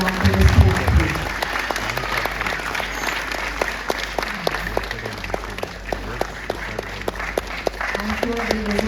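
Audience at a school annual day celebration breaking into sustained applause, a dense steady patter of many hands with a brief louder voice at the start.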